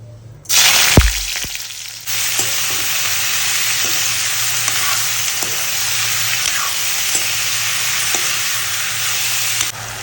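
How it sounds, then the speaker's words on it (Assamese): Food fries in a pan with a loud, continuous sizzle that starts suddenly and holds steady, with a few faint clicks and no talking. "এইফালে ভাজি হৈ আছে"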